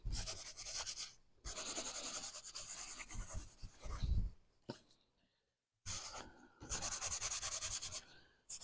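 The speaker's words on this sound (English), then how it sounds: "don't push really hard because you don't want to crush your embossing, but give it a good rub" Paper towel is rubbed briskly over embossed paper to buff it, a close, soft, scratchy rubbing in repeated strokes that stops briefly and then resumes.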